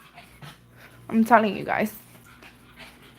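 A pet dog gives a short burst of whimpering yips at a live-stream setting, brief and moderately close, with a voice talking over it before and after.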